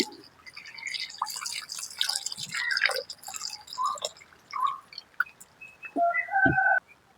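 Water dripping and splashing while fish is washed by hand in a village kitchen in Jaffna, with close, irregular trickles, drips and small splashes.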